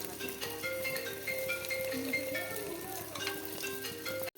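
Steady sizzling of food frying in a pan while making bread biryani, a continuous crackle with faint tones and clinks over it, and no voices.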